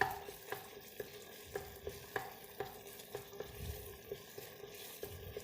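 White beans stirred in a pressure cooker, with a spoon knocking against the pot in a regular rhythm of about two strokes per second over a continuous sizzle, up close.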